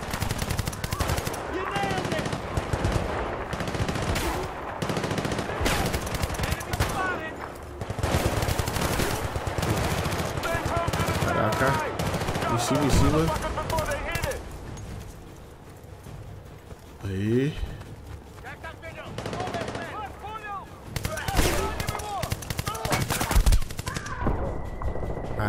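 Rapid automatic weapon fire and scattered single shots from the Battlefield Bad Company 2 campaign fill a long stretch of game combat, dense and constant, briefly thinning midway, with someone talking over it throughout.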